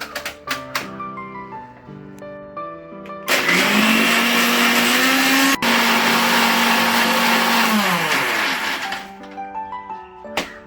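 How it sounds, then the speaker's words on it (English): A kitchen blender grinds spice masala with water into a thin paste for crab curry. Short pulses come first, then a loud sustained whir that slows and dies away, followed by a few more brief bursts. "we need to grind it into a fine paste, a thin paste, not too thick"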